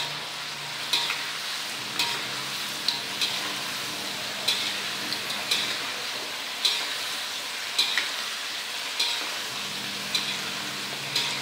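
Salted fish frying in a pan for a Sundanese basengek dish with green chili, a steady close sizzle with regular light ticking scrapes of stirring about once a second.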